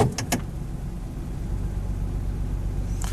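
Ford Ranger pickup truck with a shaking, misfiring engine idles with a steady low rumble from inside the cab as it is shifted into drive, a few brief clicks at the start.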